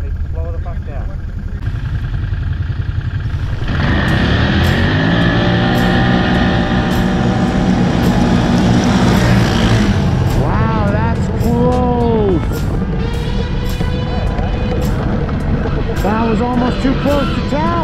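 Two Can-Am Outlander ATVs, a 700 single-cylinder and a 650 twin, race side by side from a standing start, engines roaring loud and close, pitch rising through gears before easing off with wind noise and voices talking.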